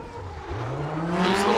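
A Dodge Viper drift car with a new exhaust at a Formula Drift qualifying event in St. Louis roars past, its engine note climbing steadily and growing louder over a brief stretch.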